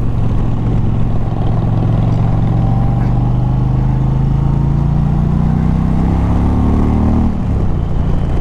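A 2020 Indian Challenger, a large touring motorcycle, being ridden with a loud, steady engine drone close up whose pitch climbs slowly before dropping away near the end.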